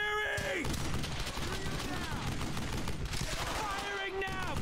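Machine gun fire in Brothers in Arms: Hell's Highway, continuous rattling bursts under shouting voices and pitched whistling effects, loud and dense throughout.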